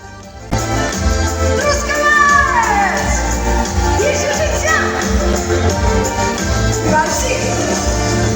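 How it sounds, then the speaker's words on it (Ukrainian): Audience applause and scattered cheering at a concert, a loud continuous crowd roar over lingering music, with shouts rising through the middle. "оплески, і браво"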